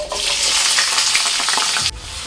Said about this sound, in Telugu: 1/2 స్పూన్ జీలకర్ర లైట్గా ఫ్రై అయ్యాక ఆనియన్ అండ్ పచ్చిమిర్చి